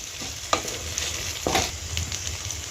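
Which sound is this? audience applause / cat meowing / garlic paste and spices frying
garlic paste and spices frying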